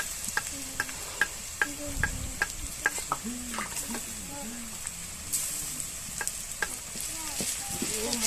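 Garlic paste fries in hot oil for a home-cooked chicken curry, a steady sizzle broken by repeated scraping stirs, while a person talks over the cooking.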